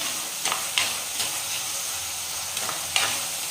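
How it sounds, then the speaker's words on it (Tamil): Onions and green chilies sizzle in a pan while being stirred, with soft scraping strokes every second or so over steady frying hiss. "நல்லா வதக்கிக்கலாங்க வெங்காயத்தை பச்சை மிளகாவையும்"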